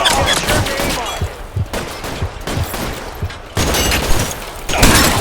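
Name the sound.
gunshots in L.A. Noire video game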